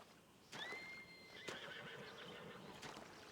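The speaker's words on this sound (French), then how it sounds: "Je suis en train de travailler, j'entends des chevaux." Unseen horses whinny somewhere nearby, two or three faint, drawn-out neighs rising over quiet room tone, with a few soft hoof clops.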